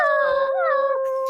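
A person imitates a dog whining and howling at a door, a drawn-out, wavering, high-pitched whimper sustained for about a second, close and loud with nothing else heard.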